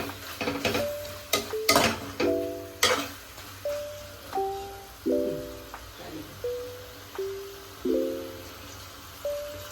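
Food sizzles and fries in a little oil in a pan while a spoon stirs and scrapes repeatedly, with clinks of metal against the pot and no talking.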